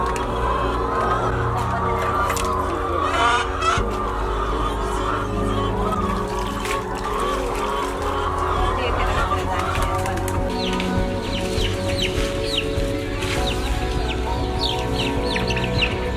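Egg-laying hens in a large chicken coop holding thousands of birds, a dense continuous chorus of clucking and cackling with occasional wing flaps, loud and close throughout.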